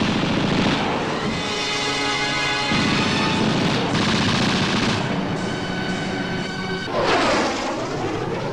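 Continuous loud battlefield noise from a 1972 Warsaw Pact military exercise, with dense bursts of gunfire and heavy rumbling, sustained throughout with no pauses, like a live-fire assault on forward defenses.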